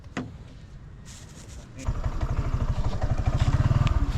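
Small motorcycles, an ADB, a Skygo and a Yamaha Aerox scooter, start up and idle nearby before revving off together in a rough, pulsing engine clatter that grows louder and steadier, with voices talking over it.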